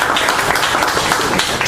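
An audience at a labor politics forum applauds as the moderator is welcomed. Dense, loud clapping from many hands forms a continuous, even roar for the whole stretch, without talk.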